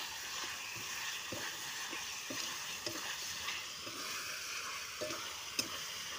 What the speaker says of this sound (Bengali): তোমরা দেখতেই পাচ্ছ চিকেন রান্না হচ্ছে, কষা কষা চিকেন।